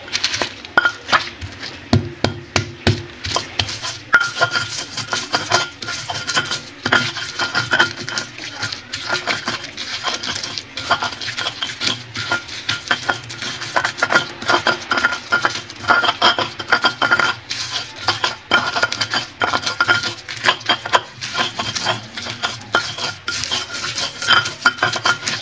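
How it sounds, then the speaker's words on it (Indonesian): Chili peppers are ground with a pestle in a stone mortar for peanut sauce, giving a long run of quick, close scraping and tapping strokes in an uneven rhythm. "kita ulek dulu ini cabenya"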